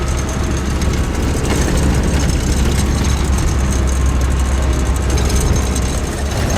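A vehicle engine drones steadily and loudly throughout while driving off-road through Tafrut toward Zagora in the Moroccan Rally, with broadband road and wind rumble and no pauses.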